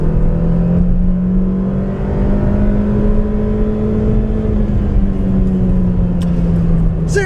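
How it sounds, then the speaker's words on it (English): A 2014 Chevy Sonic Turbo accelerates hard from a standstill in a 0-60 mph run, its engine droning loud and steady with a rising whine heard from inside the cabin. "Gotta rev this thing a little bit to really get the power"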